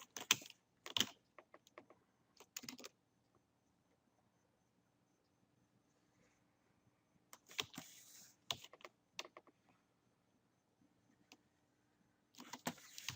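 A computer keyboard tapped for Photoshop shortcuts, brief clusters of sharp clicks at the start and again near the end, separated by a long quiet stretch, close and moderately loud.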